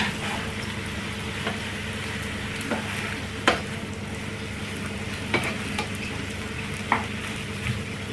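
Food with hot chili sauce being stirred in a frying pan, a continuous close sizzle broken by occasional scraping strokes and soft clacks of the spoon against the pan.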